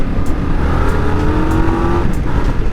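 A new Indian Scout motorcycle pulling hard in low gear, its engine droning loudly and steadily near the rider, with a brief rise in pitch and faint rhythmic wind buffeting.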